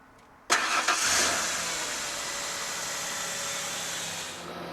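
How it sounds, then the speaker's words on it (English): A car engine cranks and catches during a jump start with cables connected to a running donor car, one abrupt start settling into a steady, close idle with no talking. "I think we're ready to start this one up"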